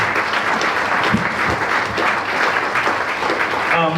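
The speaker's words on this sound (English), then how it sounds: "can I have a big round of applause for Shannon Fentiman, Minister for Business?" At a business breakfast, a room full of people gives a minister a loud, steady round of applause for four seconds, with faint voices mixed into the clapping.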